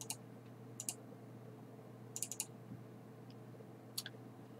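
Mouse clicks in the ARMA 3 mission editor, a few sharp isolated clicks and quick double-clicks spaced irregularly over a steady low computer hum, no voices.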